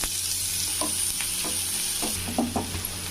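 Steady frying sizzle of chopped onions in oil for capsicum gravy, with a few scattered clicks and scrapes of stirring, no voices.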